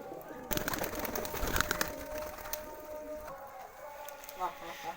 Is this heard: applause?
no